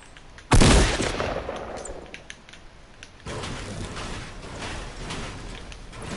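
Fortnite gunfire breaks out as one loud, sharp blast followed by a stretch of quieter rattling and mechanical game noise, then a denser, steady burst of shots.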